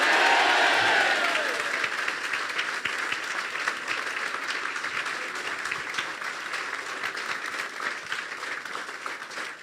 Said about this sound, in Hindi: कोई ताली बजा के कहे आमीन।